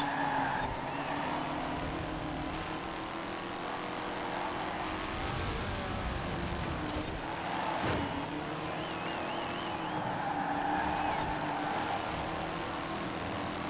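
An old-fashioned Formula 1 car in a racing game squeals and skids continuously, its engine droning steadily underneath the tire noise throughout.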